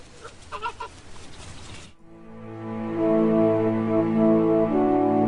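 A goose calls at close range: a few brief honks at first, then a sustained, loud, nasal honking cry that holds steady to the end.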